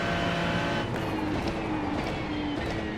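Race car engine in the iRacing sim, a steady loud drone with shifting harmonic tones and a rising pitch toward the end, continuous throughout with no talk.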